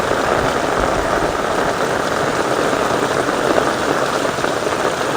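A monsoon downpour in a Gujarat village makes a steady, loud wash of rain that holds unbroken for the whole stretch, with no speech.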